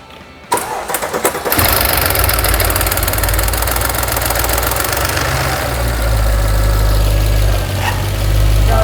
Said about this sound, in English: the noise you've heard at the beginning when we just fired it up was the oil climbing actually into the lifter, closing the gap